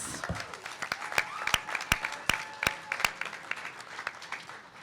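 Sparse, uneven clapping from a small audience at a university student debate, with a few sharp, loud claps standing out over softer scattered ones and a faint hum beneath.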